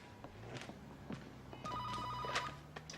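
A telephone rings with repeated bell trills, moderately near, with faint footsteps and room noise around it and no speech.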